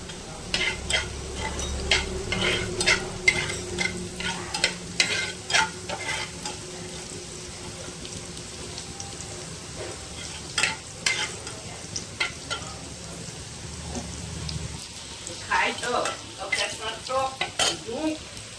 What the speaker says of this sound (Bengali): দিয়ে দিলাম দুটো শুকনো লঙ্কা আর দিয়ে দিলাম 5 ফোড়ন। এটা হালকা করে নেড়ে চেড়ে নেব।